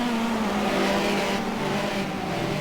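Classic hot rod race cars circling the oval at Cowdenbeath, a steady loud engine roar droning throughout without a break, the pack's motors blending into one continuous din.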